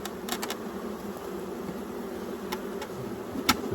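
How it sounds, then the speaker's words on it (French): A honeybee swarm being transferred from a nucleus box into a hive, a steady dense buzzing hum close by, with a few scattered knocks and clicks on top. "c'est un essaim"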